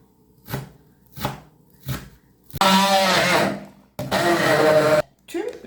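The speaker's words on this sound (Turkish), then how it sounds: "Tüm ürünlerimin püre haline gelene kadar çırpıyorum. Blender yapıyorum." A few sharp knocks, then a blender whirs in two loud bursts of about a second each, pureeing chickpea crepe batter with baking powder and chopped dill, before a final short knock.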